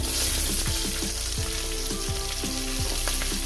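Chopped onion sizzles steadily in hot oil for eggplant bharta, a dense, continuous frying hiss broken by soft repeated scraping as the pieces are stirred in the pan.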